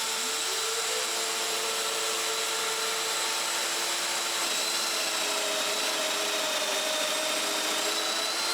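A domino joiner cuts mortises in oak for a dining table, its high motor whine steady and close as it spins up and runs continuously, with no voices.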